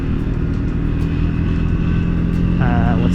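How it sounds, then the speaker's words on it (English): Peak Wednesday-morning traffic in Cape Town, heard from a Triumph Speed 400 motorcycle on the move: a steady, loud rumble of engines and wind, with a brief higher vehicle whine rising near the end. "peak morning traffic. It is a Wednesday morning in Cape Town."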